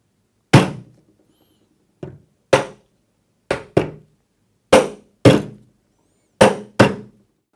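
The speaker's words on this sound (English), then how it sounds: "taking a hammer, just tap this lug until it goes flush with the top of the leg boss" Eight sharp metallic taps from a hammer on a metal lug, driving it flush with a leg boss during assembly of a base unit, spaced irregularly in ones and pairs, each ringing briefly before dying away. Close and fairly loud, no talking.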